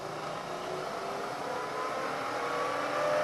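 Machine shop spindle running up toward 1,000 RPM, a steady close whirring hum with a faint rising tone and mild mechanical noise throughout, no voices.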